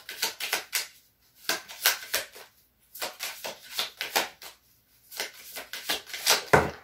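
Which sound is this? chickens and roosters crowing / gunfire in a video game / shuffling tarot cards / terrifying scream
shuffling tarot cards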